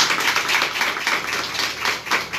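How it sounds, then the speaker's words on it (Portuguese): Church members at a home cell meeting break into close, steady applause, a dense patter of many hands clapping together at a lively even pace, without speech. "Vamos aplaudir os irmãos."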